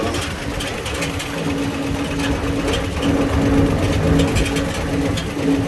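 An old vehicle with an old transmission pulling away in second gear: a steady, loud, close engine drone with a rapid mechanical chatter that builds slightly toward the end.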